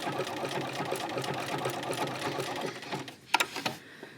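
A sewing machine stitches a quilt block, a steady rapid mechanical whir that runs alone for several seconds before ending in a few sharp clicks and knocks.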